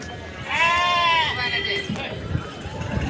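Goats at a livestock market in Pebbair, Telangana, bleating in a long, wavering call up close, with a busy crowd murmuring behind.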